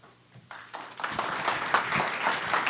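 Audience clapping after a startup presentation at a small pitch event, starting with a few scattered claps and quickly building into steady applause.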